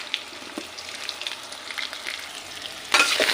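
Garlic, ginger, coconut and tomato fry in a pan with a low, even crackling sizzle that swells into a louder hiss near the end as tomato hits the hot oil.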